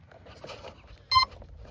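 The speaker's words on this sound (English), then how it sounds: "You hear that beep? That means the plane is on." A single short electronic beep from an RC Cessna 172 model plane's speed controller sounds clearly against quiet background rustling.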